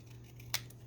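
A single brief snip of scissors trimming a cardboard coin collector holder, close and quiet over a low steady hum.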